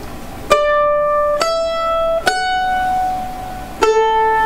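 Mandolin playing the fiddle tune Liberty slowly, four separate plucked notes spaced about a second apart, each ringing out clearly up close with no talking.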